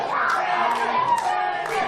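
A fight-event crowd in an arena roars and shouts, a dense wall of cheering and yelling voices sustained and loud throughout.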